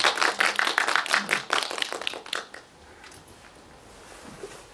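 Audience applause greeting a documentary film's director and two journalists at a premiere event, dense clapping for about two and a half seconds before thinning out and fading into quiet room noise.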